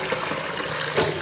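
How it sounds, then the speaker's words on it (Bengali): Water runs steadily into a pot for mixing with raw mango pieces, a continuous close splashing trickle filling the vessel, alone without talk. "জল ভর্তি করে নিয়ে নিলাম।"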